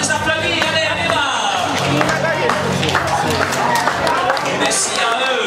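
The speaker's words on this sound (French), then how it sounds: "je crois qu'on peut les applaudir très très fort, nos danseurs de Madison" An audience at a seniors' event applauds the Madison dancers: dense clapping and crowd noise, with people talking loudly over it the whole time.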